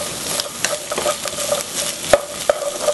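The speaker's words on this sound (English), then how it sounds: "And then we are going to stir fry with the vegetable." Radish and other hard vegetables being stir-fried in a pan for jjajangmyeon black bean sauce: a steady close sizzle with irregular sharp scrapes and clacks of the spatula against the pan, no voices.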